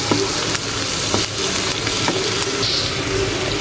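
Onions frying in a pan for an egg curry give a steady, close sizzle with faint stirring scrapes throughout, and nobody speaks.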